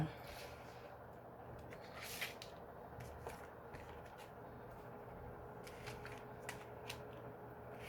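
Tarot cards are shuffled and slid about on a table in faint, scattered soft taps and rustles over a quiet background.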